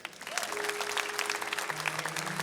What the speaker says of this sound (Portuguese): Vocês não vão aplaudir, não?